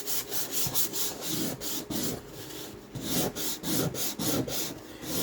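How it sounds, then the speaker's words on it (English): Sandpaper rubbed over a wooden file folder cover in quick back-and-forth strokes, giving a steady rhythmic scratchy rasp, close and moderately loud, with no talking. "when you start using the sandpaper on it like this, it brings out those lines even more"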